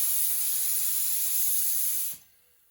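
A steady, loud hiss of a paint spray gun, slightly sticking, spraying continuously while painting garage door jambs, then cutting off abruptly near the end, leaving quiet.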